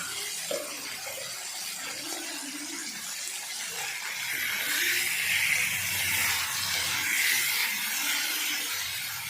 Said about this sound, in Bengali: এক সাইড ভাজা হচ্ছে।